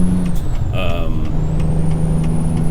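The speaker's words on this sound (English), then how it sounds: "you do get the proper engine pack sounds that you guys might be used to with other trucks" Kenworth T660 truck in American Truck Simulator, its diesel engine droning low and steady up close, with a brief hiss like an air brake partway through.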